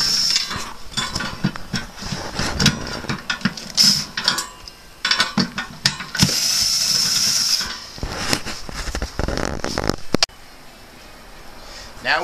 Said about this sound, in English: By doing so, we use a 5/16 nut driver.